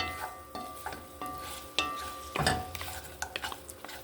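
Meat cooking in a pan over an open fire with no oil, dry sizzling broken by repeated sharp scrapes and clinks of a utensil stirring against the pan, close and fairly clear, no talk.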